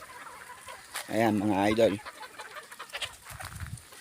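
Rooster and hen clucking on a Filipino poultry farm, a clear close burst of throaty clucks lasting about a second, with someone speaking in Tagalog before and after.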